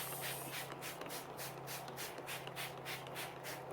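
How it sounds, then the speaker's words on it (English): Repeated short hissing bursts of a spray bottle spraying coffee or tea onto paper laid on a towel, evenly paced about every third of a second, close and steady over a faint background hum. "I just start laying out my papers on the towel and I start spraying it."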